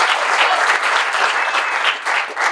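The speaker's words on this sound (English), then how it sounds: "So I'd like to give a big round of applause for John." A disc golf tournament crowd applauds steadily outdoors with dense, sustained clapping that swells and dips slightly throughout.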